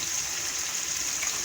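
Water poured into a cooking pan of reddened onions for an aloo palak karahi, a steady loud hissing splash throughout, with no talking.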